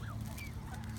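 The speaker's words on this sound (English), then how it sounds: "them doggone geese will come and run them ducks off" Geese honk at a park pond at Sacajawea Park in Livingston, Montana, a short burst of nasal calls, fairly close and clear against steady outdoor background noise.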